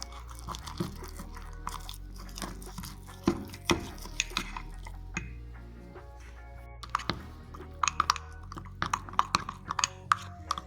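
Chocolate mug cake batter with milk being stirred in a mug, with irregular scraping clinks and knocks of the spoon against the sides, close up and moderately quiet, with no talk.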